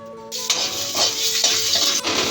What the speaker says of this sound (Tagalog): Igisa lang natin hanggang sa mag-brown na yung ating Hungarian sausage.